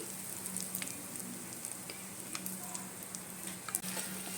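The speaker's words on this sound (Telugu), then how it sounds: "కొంచెం ఇంగువ కూడా వేసుకోండి ఫ్రెండ్స్. పోపు పెట్టుకోండి." Tempering of small dried red chillies and asafoetida sizzles in hot oil for beetroot chutney, a soft, steady frying hiss with faint scattered ticks and pops and no talking.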